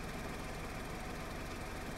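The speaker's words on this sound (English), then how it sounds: "Should I turn the engine off?" A car engine idles in the DayZ game world with a steady, dense, rumbling chug that holds constant and faint throughout, with no voices.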